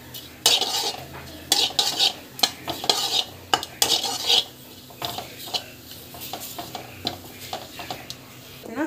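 Spice powder ingredients roasting in a pan as a spoon stirs and scrapes them, giving repeated clinks and scraping bursts with a faint sizzle underneath, close and fairly loud with no talk.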